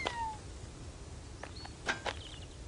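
A tabby kitten gives a few short, faint meows against a hiss of background noise, with thin high chirps near the start.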